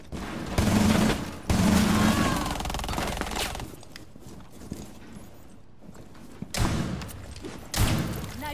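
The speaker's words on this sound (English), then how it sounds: "Nitro detonated." A nitro cell detonation in the video game Tom Clancy's Rainbow Six, with loud bursts of explosive, rapid impacts and thuds that come and go in several strong clusters.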